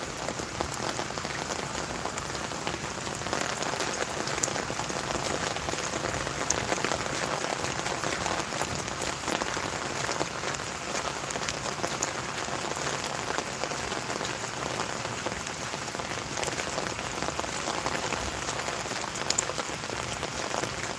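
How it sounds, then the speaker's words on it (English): Steady rain pattering on surfaces during an outdoor walk, a continuous dense hiss of drops heard close and fairly loud throughout, with no talking. "Sometimes you need to get out in the rain. You need to walk in the rain."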